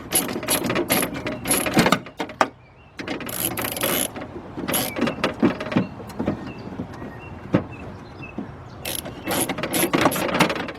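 A ratchet clicks in quick bursts loosening a bolt on a 2002 Jeep Grand Cherokee window regulator, close and loud, with brief pauses between strokes and no talking.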